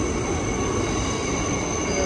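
A refurbished IMU train at Roma Street, Brisbane, rumbles past nearby with steady rolling noise and a high, sustained wheel squeal over it.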